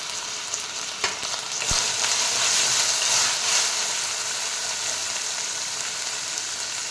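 Chopped tomato going into a hot frying pan for mushroom curry, setting off a steady loud sizzle and hiss with a few sharp clacks of utensil against pan early on, continuing without speech.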